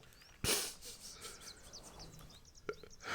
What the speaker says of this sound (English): The birds are really loud.